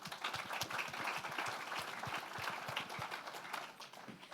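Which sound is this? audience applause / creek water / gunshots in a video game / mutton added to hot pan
audience applause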